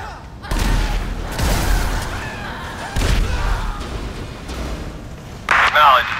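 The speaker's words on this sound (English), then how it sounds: "Citizens report an explosion on Sonora Freeway." Gas tanker explosions on a freeway in the video game GTA 5: several heavy booming blasts in separate bursts, with a police radio voice talking between them.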